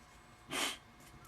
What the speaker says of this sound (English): Pardon my sniffles.